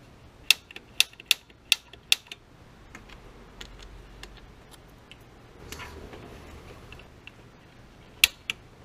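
Sharp, bright clicks from the igniter on a gas water heater's pilot light. A quick run of clicks comes first, then scattered softer ticks, a faint rush near the middle and two final clicks, all close by.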